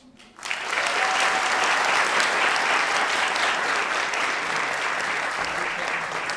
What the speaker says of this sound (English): And keep that applause going for the cast of Mad Science!